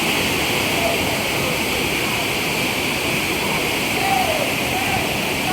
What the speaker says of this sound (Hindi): आप मेरे पीछे वाटरफॉल देख सकते हैं. This is Kempty fall.